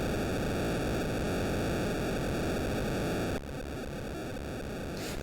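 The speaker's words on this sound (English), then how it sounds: "If you turned this audio down to just the right level, it would be a very comforting white noise" Steady, dense white-noise hiss from the Game Boy game Top Gun: Guts and Glory, loud and unbroken, shifting to a slightly thinner, rougher texture partway through with no voices.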